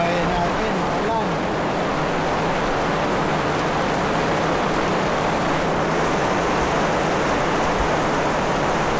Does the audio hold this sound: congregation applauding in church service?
no